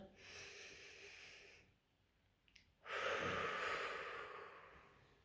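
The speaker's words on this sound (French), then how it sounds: "On inspire et on expire." One person takes a deep, slow breath, a long airy exhale and a quiet pause, then a strong, rushing breath of air that fades out, close to the microphone.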